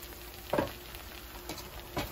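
A spoon stirs a ground paste of coconut, cumin and green chili into a pot of South Indian aviyal vegetable curry, giving a few soft, close scraping sweeps over a low sizzle with no talking.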